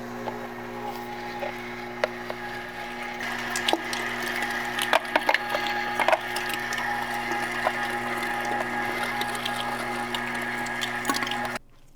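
A Pro-Cut #12 electric meat grinder works through 10 pounds of meat, giving a steady mechanical whir with a constant hum and scattered clicks and squishing thumps, running alone until it stops abruptly near the end.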